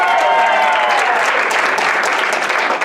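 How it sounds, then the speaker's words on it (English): Steady, dense clapping from an audience at a game-show style event, loud and continuous for a few seconds without a break. "give Tanner a round of applause as he comes back down"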